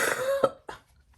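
A single short cough, close and fairly quiet, with a brief second burst right after it.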